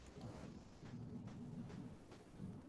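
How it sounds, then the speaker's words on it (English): Distant thunder during a monsoon storm, a low, faint, rolling rumble that swells and fades under steady rain hiss, with no one speaking. "I don't know if you could hear that, but it was the thunder."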